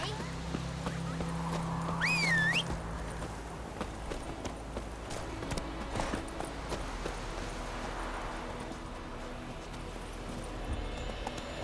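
Roach, Geralt's horse in The Witcher 3, gallops with fast, moderate hoofbeats, and a brief whinny early on is followed by continuous running under occasional speech.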